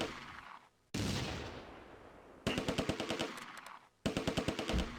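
Bursts of MG-42 machine gun fire in the World War II strategy game Close Combat: a long rattling stream, then two rapid bursts of sharp evenly spaced shots with brief pauses between them.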